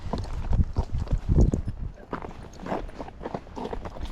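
A Tennessee Walking Horse's hooves clip-clop in an uneven, gaited rhythm, near and fairly loud at first, then softer steps continue.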